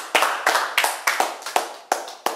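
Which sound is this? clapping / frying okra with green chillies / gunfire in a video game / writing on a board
clapping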